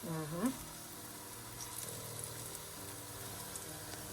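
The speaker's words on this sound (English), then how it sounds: "I'm going to turn this pan down because they just don't need to cook that fast" Plantains frying in a pan, a soft, even sizzle running throughout after a brief clatter at the start, fairly faint and steady, with no speech.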